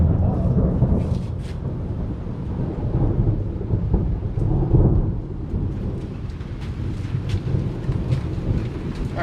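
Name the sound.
thunderstorm with thunder and rain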